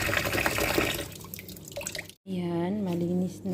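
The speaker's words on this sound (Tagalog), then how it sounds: "isunod ko naman guys, hugasan yung isda" Fish rinsed under a running tap in a kitchen sink, with steady splashing water that cuts out abruptly partway through and returns, while a voice speaks over the flow.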